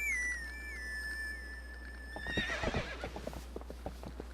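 Epona the horse in Zelda: Twilight Princess gives a long, loud whinny, then trots in with quick clip-clop hoofbeats that carry on steadily to the end.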